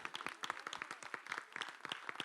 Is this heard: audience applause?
yes